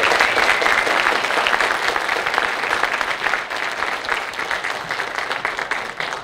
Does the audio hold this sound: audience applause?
yes